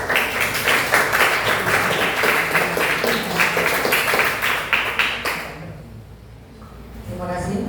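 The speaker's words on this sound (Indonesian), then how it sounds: "Tepuk tangan semua." Group applause from a room of people, a steady burst of clapping lasting several seconds before fading into quiet, with faint voices at the end.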